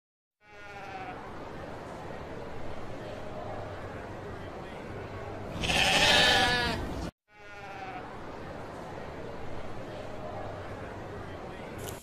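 A sheep bleats in a long, wavering, nasal cry, loud and close, with a second shorter bleat after a brief pause.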